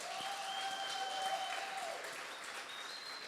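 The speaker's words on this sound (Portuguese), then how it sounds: "Você pode aplaudir o Senhor?" A church congregation claps in a soft, distant wash of applause, steady and diffuse, with faint tonal hums from the hall's sound system sustained beneath it.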